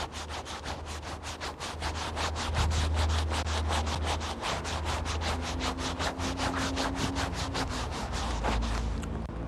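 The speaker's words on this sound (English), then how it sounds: "Here I've started rubbing before tapping." Hands rubbing briskly over the chest in a qigong routine, a fast, even train of close swishing strokes repeated dozens of times without pause.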